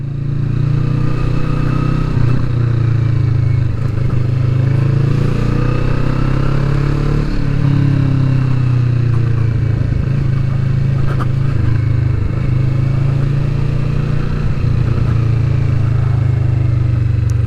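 Kawasaki Vulcan S motorcycle, 2020 model, riding between high brick walls, its engine a loud, close, continuous low rumble that rises and falls in pitch through gear changes, with occasional scrapes and clicks over the drone and no talk.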